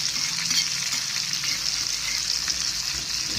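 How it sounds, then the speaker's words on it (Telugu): Fish frying in a pan for a curry, a steady dense sizzle that holds at an even level for the whole stretch, close up and with no voices over it. "కొంచెం ఫ్రై అవ్వాలి."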